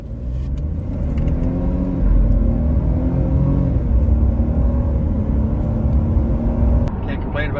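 A 2021 Ford F-150 with the 2.7 EcoBoost accelerates hard from a stop, a strong, steady engine rumble building and holding close by. The tires lose grip slightly, the roar eases near the end, and no one talks.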